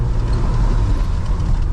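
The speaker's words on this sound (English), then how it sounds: "I forgot how washboarded this road is. I'm rattling my Jeep apart actively." A Jeep rumbles loudly over a washboarded dirt road, its body shaking in a dense, continuous low rattle and roar from inside the cab.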